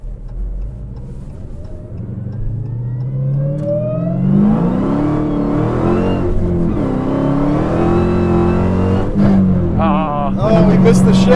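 A supercharged 1,000-horsepower Dodge Challenger Hellcat engine revs up with a climbing whine, drops as gears shift, then climbs again, loud and close, with brief talk over it.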